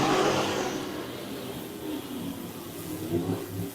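UMP modified race cars accelerating around the oval at Brighton Speedway, heard as a broad engine roar that fades and then swells again as the cars pass, with no talking.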